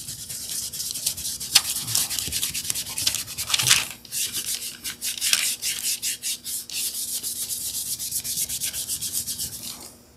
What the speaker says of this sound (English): We've clear waxed it already. And let's start buffing.